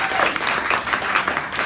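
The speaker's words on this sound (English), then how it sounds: "Give him a round of applause." Audience members at a 2017 Kansas City improv class performance applaud in a brief, lively burst of clapping, fairly close and continuous from start to finish.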